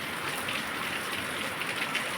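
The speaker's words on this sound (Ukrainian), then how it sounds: "І ще сильніше дощ став." Heavy rain hisses steadily and evenly, with water running off a roof, a dense wash of water sound with no pauses and no voices.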